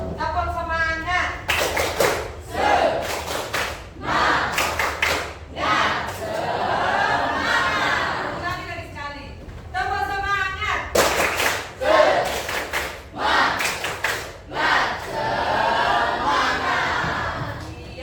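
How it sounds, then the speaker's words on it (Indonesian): A school class does a rhythmic spirit clap, with sharp bursts of group clapping in patterned beats alternating with loud collective chanting from many young voices, close and energetic throughout. "Tepuk semangat."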